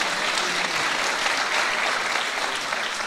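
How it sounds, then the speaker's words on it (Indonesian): Sustained audience applause fills a hall at a televised Metro TV event, following the handover of a souvenir to a guest; dense, steady clapping with no talk over it. "Kita berikan tepuk tangan sekali lagi."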